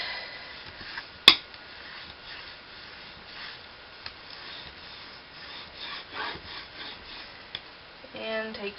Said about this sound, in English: Now burnish it really good.